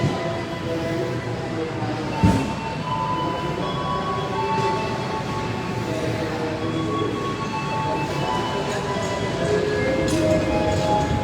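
A train rumbles steadily nearby at Gambir Station, Jakarta, with rolling wheel noise and occasional faint squeals, one sharp clank early on, no voices.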